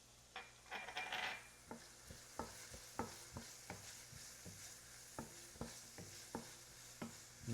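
Food stirred while frying in a pan for pabellón criollo with garlic, a soft steady sizzle punctuated by regular scraping clicks of the utensil against the pan, close and quiet.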